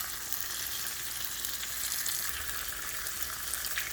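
Pork cooking over an open fire gives off a close, steady hiss and crackle of sizzling fat, continuous and fairly soft with no talking.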